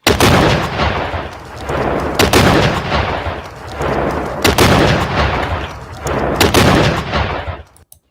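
A rocket being fired: a series of loud, booming blasts roughly every two seconds, each followed by a rumbling roar before the sound cuts out, close and powerful with no speech.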